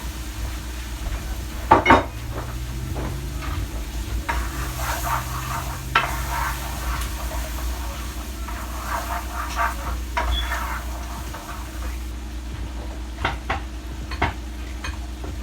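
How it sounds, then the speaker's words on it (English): Seafood étouffée stirred in a pot, with a spoon scraping and clinking against the sides over a low, continuous sizzle, close and moderately loud in irregular strokes. "Continue to stir."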